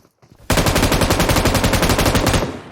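Sustained automatic gunfire in PUBG Mobile, a rapid, even burst of loud close shots that starts abruptly and runs for about two seconds before tapering off, with no talk over it.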